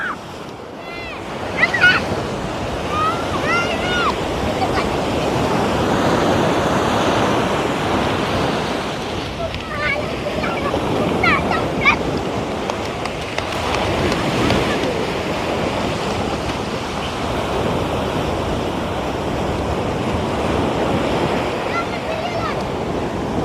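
Sea waves surging and breaking on a beach, a steady broad wash of surf with wind buffeting the microphone throughout, and faint voices mixed in beneath the roar.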